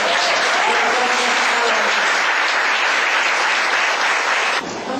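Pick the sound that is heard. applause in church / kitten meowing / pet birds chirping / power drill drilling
applause in church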